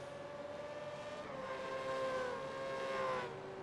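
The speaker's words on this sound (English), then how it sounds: "He's revving the engine, getting ready to go again." Race car engine in a V8 racing sim, revving while the car sits up on jacks in the pit lane, a steady droning whine rising and falling in pitch over a few seconds, fairly faint with no talk.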